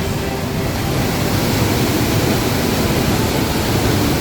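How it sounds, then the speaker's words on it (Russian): A powerful underground waterfall, a mountain stream dropping 18 metres through rock, gives a loud, dense, unbroken roar close by, heavy in the low end and steady from start to finish. "Представьте, это мощный горный поток высотой 18 метров на огромной скорости."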